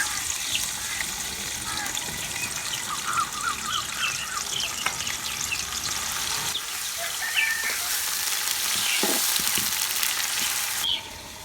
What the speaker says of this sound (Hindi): प्याज को हम हल्का सा गोल्डन ब्राउन होने तक फ्राई कर लेंगे